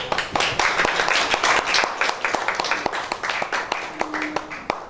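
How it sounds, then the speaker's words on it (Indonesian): Audience applause at a magazine's third-anniversary award ceremony for a writing contest winner, a mix of crisp individual claps and steady clapping, fairly close and continuous for about five seconds. "Tepuk tangannya dong."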